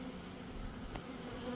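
Honey bees buzz steadily inside a hive, a continuous dense drone that stays even throughout, with a brief faint click partway through.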